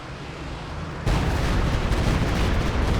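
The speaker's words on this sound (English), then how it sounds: "we see a quick follow up here with a Stukas of Fuss barrage" Stuka zu Fuss rocket artillery barrage in Company of Heroes 2, a sudden loud burst of explosions that swells into a sustained roaring rumble of impacts, with no talking.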